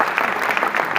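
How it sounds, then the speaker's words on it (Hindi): Audience applause welcoming a speaker at a two-day national astrology seminar in India, a brief burst of dense, steady clapping from a crowd filling the hall. "सभी स्वागत करेंगे तालियों से"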